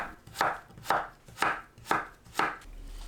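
A knife slicing cucumber diagonally on a cutting board for a spicy wild chive and cucumber salad, with five evenly spaced, crisp chops close up and no talking.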